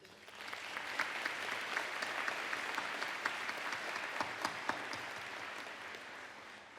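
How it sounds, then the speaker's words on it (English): Steady round of applause from an audience at a community salute event in Fayetteville, North Carolina, a sustained wash of many clapping hands with a few sharper claps standing out, moderately distant and unbroken by speech. "just a round of applause"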